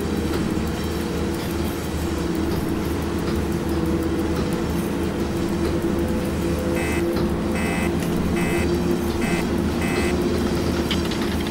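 Warning alarms sound in the SimRail train simulator, with repeated beeps breaking in over a loud, steady rumble of rolling freight train noise during the second half.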